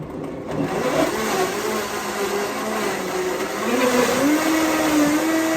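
A blender runs loud and steady throughout, whirring with a motor pitch that rises slightly as it blends thick butternut squash soup.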